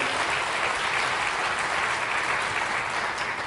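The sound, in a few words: audience applause at a conference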